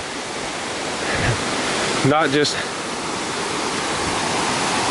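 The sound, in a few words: Ramsey Cascades waterfall rushing water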